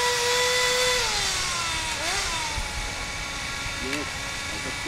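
Kyosho Nitro Blizzard RC car's nitro engine whines steadily in second gear, a high buzzing drone that dips and wavers in pitch as it runs, close and continuous with a constant hiss.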